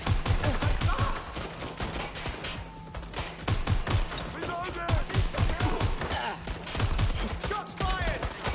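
Dense, rapid gunfire from a Watch Dogs: Legion firefight, loud and near with bursts of automatic shots running almost continuously, voices shouting underneath.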